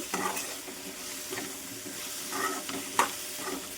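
Taro (colocasia) curry being stirred in a pan, a soft scraping, sizzling texture with a few louder knocks of the spoon against the pan.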